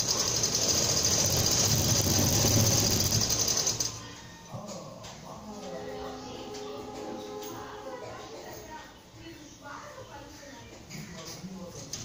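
A sewing machine stitches a niqab with a fast, loud mechanical whir and rattle for several seconds, then stops, leaving quieter clicks and handling noise with a voice talking faintly.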